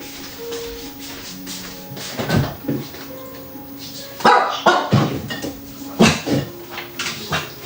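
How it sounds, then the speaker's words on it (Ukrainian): A dog lets out several short, sharp barks at irregular intervals in a home kitchen, with dishes clinking and faint background talk in between. "Бери їж, не гавкай."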